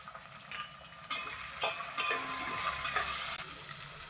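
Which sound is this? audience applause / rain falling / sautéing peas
sautéing peas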